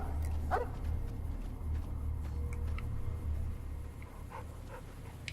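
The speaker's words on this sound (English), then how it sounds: "Stop woofing." A dog barking and yipping in the Fallout: New Vegas game world, a few short, faint barks scattered over a low, steady ambient drone.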